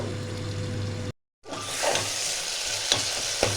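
Tomato and onion cook under a lid for mutton curry, giving a steady close sizzle and frying hiss that cuts out briefly, then returns with a few faint clinks.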